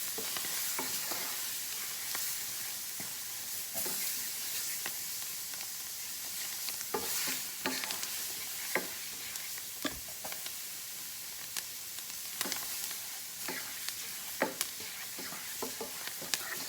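Roux with chopped onions being stirred in a hot pan for Cajun shrimp and grits, a soft steady sizzle under repeated scraping strokes of the spoon, close and quiet with no voices.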